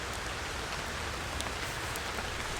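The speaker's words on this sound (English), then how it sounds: "Well, it's raining. It's full on raining now" Steady rain falls in the Great Smoky Mountains on an October backpacking trip, a soft even hiss with no voices.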